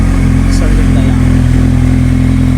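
A motorcycle fitted with an SC Project slip-on exhaust idles with a deep, steady drone that rises slightly as it is revved, loud and close throughout.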